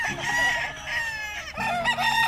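A rooster on a gamecock farm crows loudly and close by, its drawn-out call rising and falling, with chickens clucking around it.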